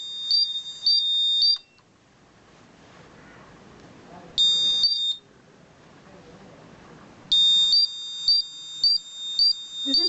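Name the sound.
buzzer alarm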